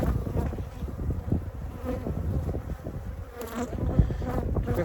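A strong honeybee colony hums in an open hive during an inspection, a dense continuous buzz up close with individual bees droning past, no talking.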